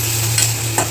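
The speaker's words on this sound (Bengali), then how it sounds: "রসুনটা আমরা ভালো করে ভেজে নেব।" Crushed garlic frying in hot mustard oil with bay leaf and whole cumin, a steady close sizzle with two brief stirring scrapes, no voices.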